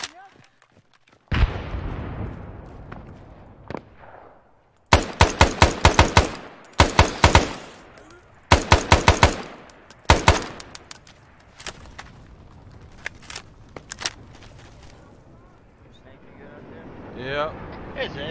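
Close air support gunfire sounds in Arma 3 as repeated bursts of heavy automatic fire, loud and rapid, with booming impacts in between. Voices talk over the fire during the later quieter stretch.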